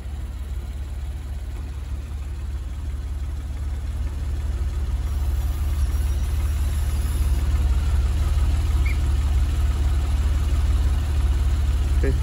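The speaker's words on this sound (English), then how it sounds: "I'll cycle the top up and down so you can see that one" A 2009 Porsche 911 Carrera 4S Cabriolet lowering its power top, a steady motor hum under the car's low idling engine, continuous and close with no talk over it.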